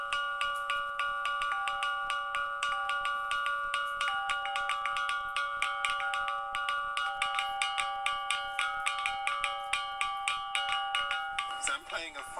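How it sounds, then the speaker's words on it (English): An ancient rock gong in Sudan is struck repeatedly, giving bright, ringing metallic-like tones in a steady rhythm of hits with a sustained resonance, close and clear, ending in a brief scrape. "It's not a bell, but it's what we call the rock gong"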